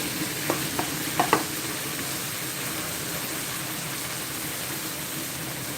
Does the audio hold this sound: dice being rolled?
no